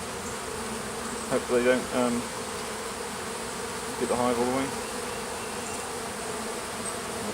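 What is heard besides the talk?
bees buzzing around a hive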